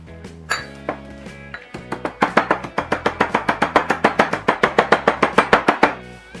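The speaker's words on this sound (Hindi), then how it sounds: "और फिर ठंडा होने पर इसे मोटा मोटा कूट लिया है" Cooled, roasted kebab spices are pounded coarsely for chapli kebab: a fast, even series of about twenty sharp, ringing strikes. The blows come close and loud, after a few slower opening hits, with no voices.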